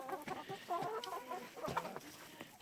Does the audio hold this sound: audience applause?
no